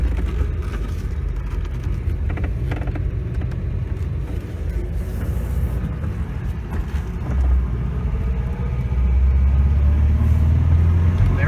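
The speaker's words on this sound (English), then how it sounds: "Smooth acceleration, excellent clutch, perfect shifting." A 1988 Volga GAZ-24-10 engine drones loudly and steadily from inside the cabin, its rumble rising and deepening toward the end as it picks up speed through manual gear shifts.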